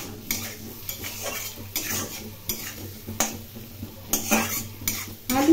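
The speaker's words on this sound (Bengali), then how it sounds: "আলুগুলো একটু লাল করে ভেজে নেব।" Potatoes fry in a pan as a metal spoon stirs and scrapes them in repeated strokes, with clinks against the pan over a low, steady background of faint sizzling.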